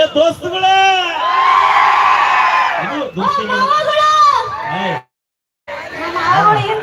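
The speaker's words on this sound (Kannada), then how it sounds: "ಬರ್ಲಿ ಒಂದ್ಸಾರ ಚಪ್ಪಾಳೆ" A crowd at a live event in Bijapur cheers and claps, with whoops and a loud, drawn-out amplified voice riding over the noise; it swells for a few seconds, eases, cuts out briefly, then resumes.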